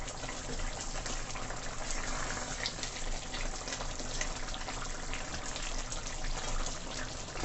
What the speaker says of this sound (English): So I'm just gonna stir it around, make sure it doesn't stick.